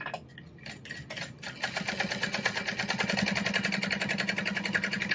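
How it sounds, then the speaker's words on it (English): A sewing machine runs steady top stitching along the folded edge of a backpack, a fast even mechanical whir that starts after a brief pause and carries on loudly and alone. "now I need to top stitch along that folded edge"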